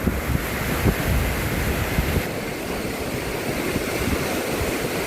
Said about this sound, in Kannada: ಗಾಳಿ ಮಸ್ತ್ ಐತ್ರಿ, ಸಕ್ಕತ್ತೈತಿ ಗಾಳಿ.